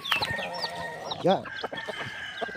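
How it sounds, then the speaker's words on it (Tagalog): Chickens cluck and a rooster crows nearby while pet chicks are fed in a yard, with short calls overlapping and a brief spoken word in between. "tayo po ngayon mga kaibigan ay magpapatuka na ng ating mga alagang sisiw."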